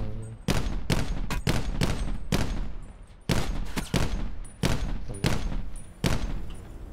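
Rapid bursts of gunfire in Call of Duty Black Ops 4 Blackout, loud sharp shots in quick clusters with short pauses between volleys, close and alone without talk.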